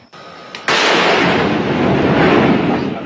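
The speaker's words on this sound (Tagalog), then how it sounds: "ginamit muli ng militar ang kanilang kanyon" A military cannon fires in Patikul, Sulu, a sudden loud boom that rolls into a long, sustained rumble filling the rest of the moment, preceded by a faint tone.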